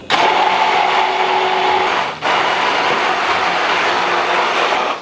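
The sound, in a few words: immersion blender mixing maple syrup sauce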